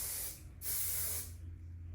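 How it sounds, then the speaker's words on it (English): Two long bursts of hair spray hissing close by, the second slightly longer, separated by a brief pause, with a low hum underneath. "Spraying again."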